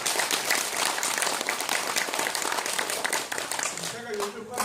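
A seminar audience at a health forum applauds the speaker, loud dense clapping that fills the room, then dies away as a voice begins to talk.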